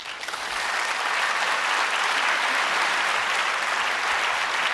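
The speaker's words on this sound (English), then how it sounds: "why does he get applause?" An audience at a Stanford University talk applauds loudly and steadily, a dense wash of clapping that holds throughout.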